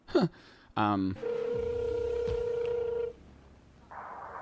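A flip phone's short electronic ringing tone sounds steadily, then stops, with a brief voice at the start and faint background noise.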